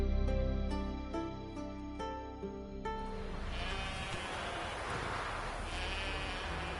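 A sheep in The Witcher 3: Wild Hunt bleats several times in drawn-out, wavering calls over quiet outdoor ambience, fairly close.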